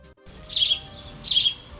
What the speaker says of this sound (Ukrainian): Хто це так співає, коли сонечко світить? Так, це горобчик.